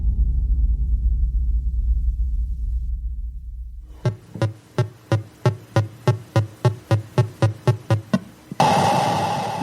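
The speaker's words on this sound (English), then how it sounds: "That is the sound of John Madden Football, finally published in 1988." Vintage 1988 John Madden Football computer game audio: a low rumbling drone fades out, then a steady run of about fourteen evenly spaced synthetic thumps plays before a burst of harsh noise.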